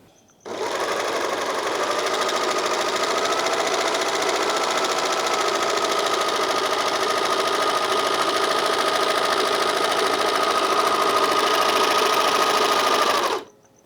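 A Janome 644D serger runs at a steady high speed for about thirteen seconds, a loud, even mechanical whir and needle chatter starting and stopping abruptly, close to the microphone and without talk.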